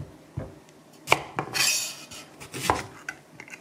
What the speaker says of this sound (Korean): 콜라비를 썰어 보겠습니다.